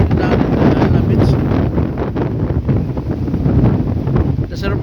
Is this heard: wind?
yes